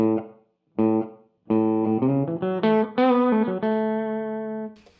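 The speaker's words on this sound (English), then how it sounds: "Sounds like a room reverb." Guitar chords and single notes played through a Donner Verb Square reverb pedal on a room setting, short roomy reverb tail, separate strums then a sustained chord ringing out, no talking.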